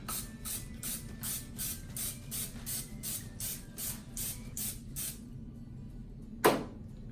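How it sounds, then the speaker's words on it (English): A quick run of about a dozen short, hissing sprays from an aerosol can of cooking spray onto a mold, close by, then a pause and one final brief spray. "let's go ahead and spray a mold"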